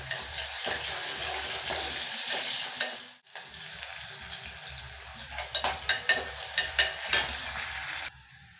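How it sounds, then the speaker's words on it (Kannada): Mustard seeds and onions fry in hot oil for a brinjal curry, giving a steady hiss and crackle, then a brief gap followed by a run of rhythmic stirring scrapes and spatters near the pan. "ಎಣ್ಣೆ ಬಿಸಿಯಾಗಿದೆ ಸಾಸಿವೆ ಹಾಕೊಳ್ಳೋಣ ಸಾಸಿವೆ ಚಟಪಟ ಆದಮೇಲೆ ನಾವು ಈರುಳ್ಳಿ ಹಾಕೋಣ"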